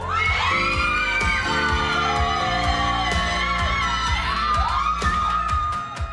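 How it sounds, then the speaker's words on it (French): A crowd of high school girls at a party or prom erupts in loud, sustained shrieking and shouting as a door opens, with sharp bangs and whoops punctuating the continuous noise. "On ouvre la porte. Ça s'est mis à hurler."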